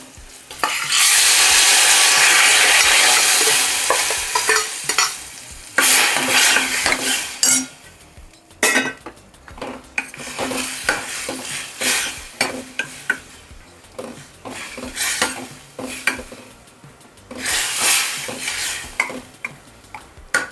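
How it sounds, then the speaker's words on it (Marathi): A spoon stirs and scrapes around a frying pan of boiled spinach with peanuts and cashews while it sizzles, loud hissing at first, then intermittent scraping and clatter. "छान ढवळून घ्यायचं"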